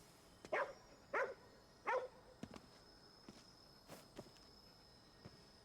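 A dog in the video game Ghostwire: Tokyo gives three short, clear barks in a quick, even rhythm, followed by faint soft footsteps in a quiet scene.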